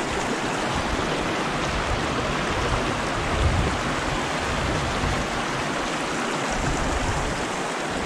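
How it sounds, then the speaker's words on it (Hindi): Glacier meltwater stream rushing steadily at close range, a loud continuous broadband roar of flowing water with no pauses and no voices. "ग्लेशियर का पानी पिघल कर जा रहा"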